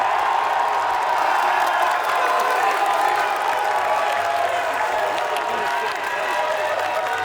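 Big crowd applauding and cheering for the men's division Callahan Award finalists at a college ultimate frisbee championship, steady dense clapping and whoops filling the whole stretch without a break.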